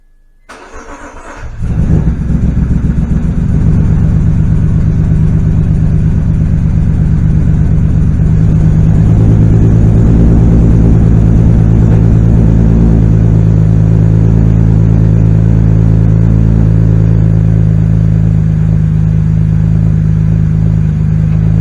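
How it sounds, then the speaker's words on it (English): A BMW E46 ZHP with a spec E46 exhaust and resonator cold-starts, catching after a brief crank, then settles into a steady, loud, close idle with a deep low rumble that smooths out over time. "just the cold start with the spec E46 exhaust with the resonator installed"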